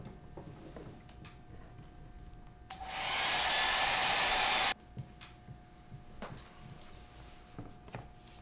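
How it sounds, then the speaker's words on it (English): Hair dryer blasting for about two seconds, loud and close, drying a blue watercolor underpainting wash on paper in a quiet studio, with faint handling noises before and after. "take the dryer and dry this quickly"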